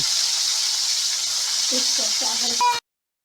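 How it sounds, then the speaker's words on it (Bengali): Onion and meat frying together in fully heated oil make a continuous close sizzle, with a voice briefly starting over it just before it cuts off. "তেল সম্পূর্ণ গরম হলে তার মধ্যে পেঁয়াজ এবং মাংস একসাথে দিন এবং তাকে কিছুক্ষণের জন্য ভাজুন"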